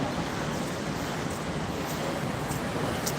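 Sea waves wash at a city beach, a constant broadband roar mixed with wind buffeting the microphone, loud and unbroken with no clear individual breakers.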